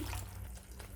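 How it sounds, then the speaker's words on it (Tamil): Water splashes into a cooking pan of egg kurma masala curry, a steady close pour with no talking. "தேவையான அளவு தண்ணி"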